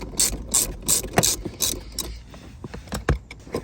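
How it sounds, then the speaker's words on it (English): A ratchet loosening the 10 mm negative battery terminal bolt on a Mercedes-AMG ML63 (W166) gives rapid close clicking in short bursts, with a few louder clacks near the end. "We're going to loosen the negative terminal"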